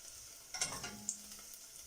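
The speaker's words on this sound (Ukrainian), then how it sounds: "Цибуля підсмажилась і додаю чесник. Часник злегку обсмажую, щоб пішов приємний запах." Garlic frying with softened onion in a pan, a quiet, low sizzle with a couple of soft stirring scrapes, close and brief.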